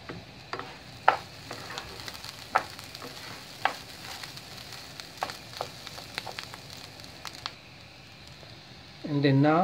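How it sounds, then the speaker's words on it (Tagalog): Rice being stirred continuously in a hot pan for asparagus risotto, with soft scraping and faint sizzling plus intermittent clinks of the spoon against the pan, ending in a louder burst as liquid is added. "When you put the rice, always stir continuously."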